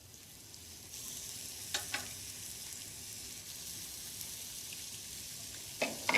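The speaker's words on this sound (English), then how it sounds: "So lift each one with a fish slice into the pan and over." Beef burgers sizzle steadily in hot oil in a frying pan, a continuous close crackle with a couple of brief louder spits as they are lifted and turned.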